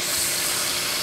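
Freshly spearfished lobster sizzles as it cooks on a catch-and-cook trip in Exuma, Bahamas, making a steady, close, bright hiss that holds evenly through the brief moment without talk.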